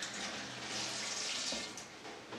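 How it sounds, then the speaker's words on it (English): Tap water runs steadily into a sink while hands are rinsed underneath, a soft continuous splashing hiss that swells slightly in the middle, with no voices. "Rinse off our hands."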